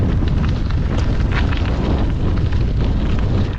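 Strong wind buffeting a microphone on a bicycle tour, a loud, steady roaring rumble that fills the whole stretch and drowns out everything else.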